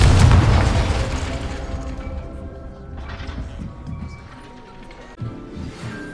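Spell blasts from Bombarda and Confringo cast at a training dummy in Hogwarts Legacy, a loud booming explosion at the start that fades into a rumbling tail, with smaller bursts and game effects following.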